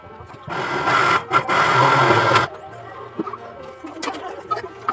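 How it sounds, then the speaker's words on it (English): A blender pulping paper with water, a loud whirring motor grind for about two seconds with a brief stutter, then stopping and leaving quieter clicks and knocks. "Carefully put the papers into the blender."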